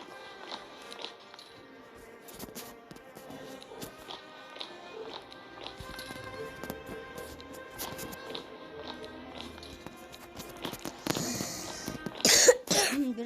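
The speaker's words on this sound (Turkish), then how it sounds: "Yani öksürdüm." A few scattered coughs amid faint tapping and shuffling movement, with a louder burst of rustling noise near the end.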